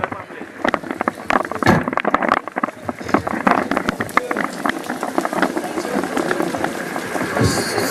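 Rain pattering steadily outdoors at a high school graduation ceremony, a dense hiss of drops on surfaces with scattered louder taps, continuous and fairly close.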